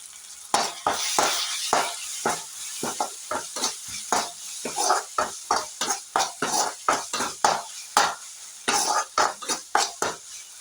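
A tomato mixture with turmeric and chilli powder is stirred in a pan. A spoon scrapes the metal in a quick, regular series of about two dozen sharp strokes over a light sizzle, close and distinct, with no talk.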